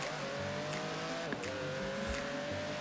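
A Pagani Zonda Cinque engine in the racing game Forza Horizon 4 drones steadily and rises slightly as it accelerates, with a brief shift partway through and no voices.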